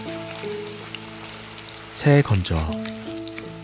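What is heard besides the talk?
perilla leaves frying in oil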